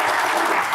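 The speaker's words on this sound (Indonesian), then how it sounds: "Tepuk tangan teman-teman." Audience applause at a law enforcement Q&A event, a dense burst of clapping that is loud and continuous for a brief moment.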